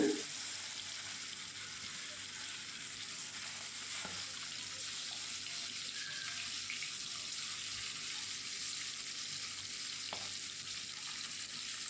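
Quiet, steady sizzling of bogo fish frying in hot mustard oil, a soft crackling hiss that continues evenly with a few faint clinks.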